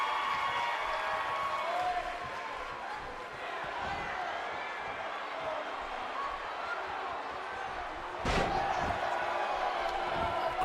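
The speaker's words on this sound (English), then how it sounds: "Elbow smash there to the shoulder." At a live independent wrestling show, an elbow smash to the shoulder lands as one sharp, loud thud late on, over steady crowd murmur and commentary.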